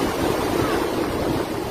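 Water rushing and churning at Bustos Dam in Bulacan, overflowing where a rubber gate has broken; a steady, loud roar of surging water with no voices, continuous throughout the short stretch.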